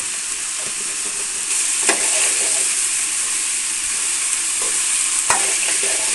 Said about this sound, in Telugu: ఇప్పుడు మొత్తం ఒకసారి కలుపుకొని నేను కొంచెం మీడియం ఫ్లేమ్లో పెట్టుకొని అయితే కుక్ చేసుకుంటాను